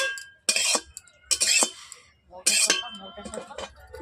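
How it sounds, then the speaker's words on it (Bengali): A kadai is set onto a lit clay stove for cooking matar paneer, giving three sharp metallic clinks and scrapes spaced about a second apart, close and clear against a quiet background. "দেখতেই পাচ্ছেন উনুনের মধ্যে আমি কড়াই বসিয়ে দিচ্ছি।"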